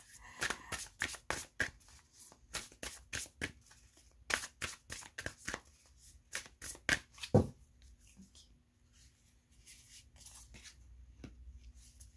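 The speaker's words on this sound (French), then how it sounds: "on a plein de cartes qui sautent" Tarot cards are shuffled close up in quick bursts of crisp riffling and slapping, with pauses between runs and a soft card tap near the end.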